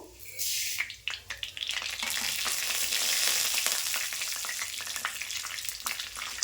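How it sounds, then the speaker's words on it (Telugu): Cumin seeds and urad dal crackle and sizzle steadily in heated oil in a pan, a close, continuous frying hiss with small pops throughout, no talking. "అయితే హీట్ అయింది కదా అందులోకి మనం జీలకర్ర మినప్పప్పు"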